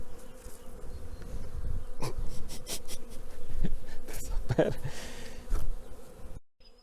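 Honey bees hum continuously around an apiary hive in late February, a dense close drone with some louder passes and faint handling knocks, ending abruptly.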